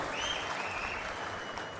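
An audience at a government meeting applauds, a continuous wash of many hands clapping at moderate volume, with a faint ringing tone drifting through it.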